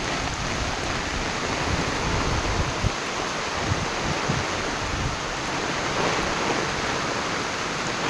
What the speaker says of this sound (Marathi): खूप हेवी रेन पडते म्हणजे सांगू शकत नाही कशा स्वरूपात पडते ते, पण खूप खूप खूप जास्त पाऊस पडतो.